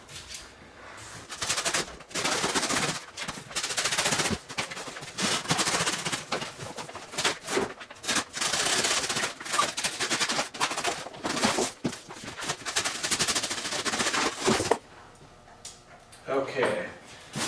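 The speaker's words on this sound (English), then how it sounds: "with a knife, I'm going to cut down these corners of these boxes and lay the sidewalls flat" A knife slices down the corners of cardboard shipping boxes for a bath bomb machine, giving close, rough tearing and scraping bursts in irregular runs with brief pauses, ending in a quieter stretch.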